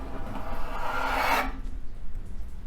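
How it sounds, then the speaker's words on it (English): Metal outer cover of a vintage 1980s desktop computer sliding forward off its chassis after the screws are removed, a close, steady scraping rasp lasting about a second and a half before stopping. "And once all those screws are out, the outer cover just slides forward."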